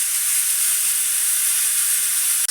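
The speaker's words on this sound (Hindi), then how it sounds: "कुकर में खोल रही हूँ क्योंकि भूमि लोग खाना खाने के लिए तैयार हो गए हैं।" Steam hissing from a kitchen pressure cooker as it is opened after cooking rice, a loud continuous close-up hiss that runs steadily before cutting off abruptly.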